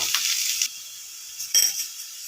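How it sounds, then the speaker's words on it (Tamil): Onions and curry leaves sauté in a pan for a tamarind-tomato fish curry, giving a soft, steady hiss with a quick clink partway through. "வெங்காயத்தை கருவேப்பிலை வெங்காயம் போட்டுக்கோங்க. நல்லா வதக்கிக்கோங்க."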